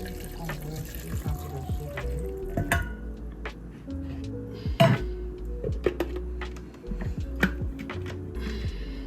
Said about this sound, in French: Je vais mettre un peu d'eau pour qu'on voit quand